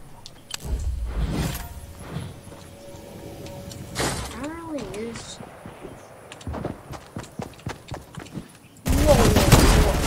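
SMG fire in the video game Fortnite comes as quick bursts of loud shots scattered among footsteps and game effects, with a dense rapid burst at the end; a player talks at points throughout.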